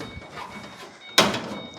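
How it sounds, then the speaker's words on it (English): The door of a 1940 Ford-style hot rod shuts with a single solid thump, preceded by faint shuffling and brief mechanical noises. "let's close the door."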